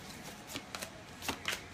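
Ascended Master oracle cards are shuffled by hand at close range, producing several quick, soft riffling flicks in an irregular rhythm against a quiet room.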